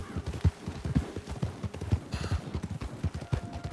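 Horse hooves clop in a quick, steady galloping rhythm in Red Dead Redemption 2, close and fairly soft, with faint ambient noise behind them.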